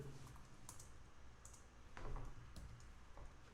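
A few crisp key clicks from a computer keyboard while LaTeX is being edited, sparse and moderately close over a low steady background hum.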